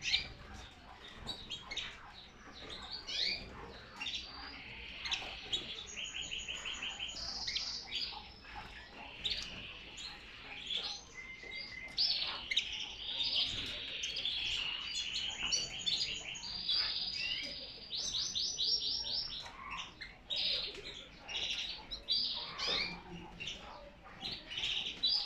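Pet canaries, bred for colour, chirp and trill almost without pause in a cage, bright busy song with overlapping twittering phrases, moderately loud and close, with no talk.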